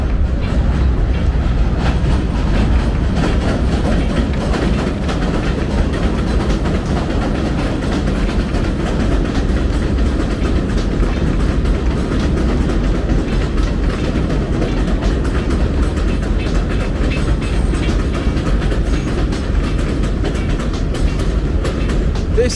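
A train rolls past on the tracks along White Plains Road in the Bronx, a loud continuous rumble and rattle of rail cars that stays steady and close throughout.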